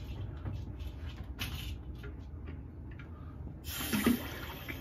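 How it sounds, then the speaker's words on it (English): Water runs into a bathroom sink with a soft, faint trickle, then swells into a louder, steadier gush near the end. The sink's stopper is not sealing properly. "I get some more water in my sink."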